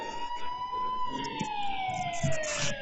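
A police siren wails with a slow rising and falling tone, fairly close, over the low rumble of passing traffic.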